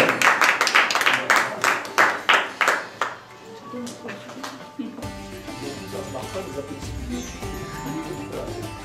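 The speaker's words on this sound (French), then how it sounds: "On va vous applaudir tous ensemble, mesdames et messieurs, très très fort." Audience at a restaurant awards event in Lyon clapping in unison, about a dozen loud rhythmic claps in a steady beat, then a softer scattered patter of applause mixed with crowd noise and music.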